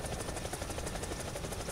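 Several helicopters in a video game give off a steady, rapid rotor chop under a dense mechanical drone that stays level and unbroken for the whole stretch.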